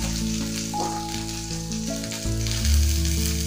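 Mint leaves fry in a pan for a mint chutney, giving a steady close sizzle that carries on throughout with no pauses and no talk.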